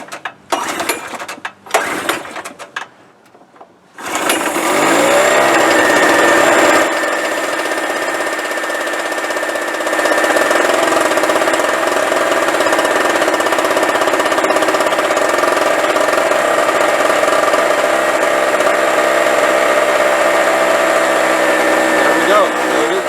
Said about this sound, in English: So let's see if we can get it started.